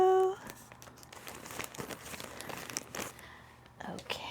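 A package is crinkled and cut open with scissors, giving close, irregular rustling and snipping bursts of plastic and paper, with faint talk in the background.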